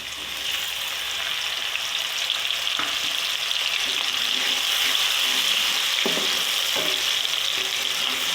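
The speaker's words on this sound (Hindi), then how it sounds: "प्याज को लाइट ब्राउन कर लेती हूँ।" Onions fry in hot ghee with a steady, loud sizzle throughout, broken by a few brief stirring scrapes near the end, with no voices.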